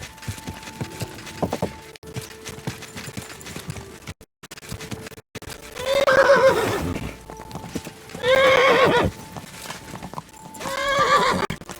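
Hooves clip-clop on the ground while a horse in Kingdom Come: Deliverance II lets out three loud whinnies in the second half, each close and drawn out over the steady footfalls.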